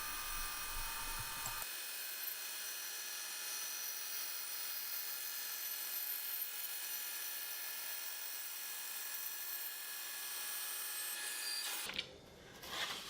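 A band saw cuts a thin slice from a walnut board, producing a steady high-pitched whine and hiss that runs evenly for several seconds before cutting off abruptly near the end, with no one talking.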